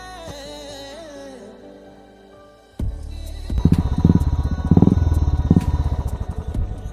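A modified Royal Enfield Classic 350 BS6 motorcycle with a loud aftermarket exhaust starts up after a quieter tonal passage, then revs hard in close, punchy, throbbing bursts that stay loud to the end.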